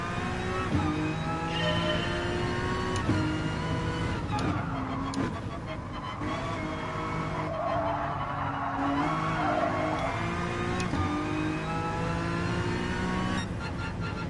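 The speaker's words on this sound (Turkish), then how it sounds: "Gazı köklediğinde öyle bir arkadan kopma yaşanabiliyor." Car in the Gran Turismo Sport racing game with its rear sliding out under full throttle: a loud, continuous engine roar with shifting pitch, mixed with steady tire skid noise throughout.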